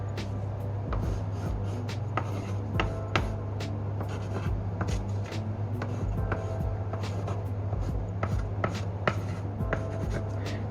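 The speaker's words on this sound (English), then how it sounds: "I'll write it right now, and I can write something that is deep." A pen scratches across paper in quick handwritten strokes, a close, steady run of small scrapes and taps over a low constant hum, with no talking.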